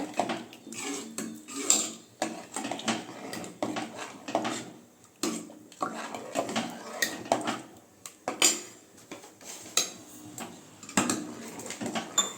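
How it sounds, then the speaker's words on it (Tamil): A spoon scrapes and clinks against a pot while moong dal payasam is stirred, repeated metallic taps and scrapes in an irregular rhythm, close and moderately loud. "சேர்த்து நல்லா மிக்ஸ் பண்ணி விட்டுக்கோங்க"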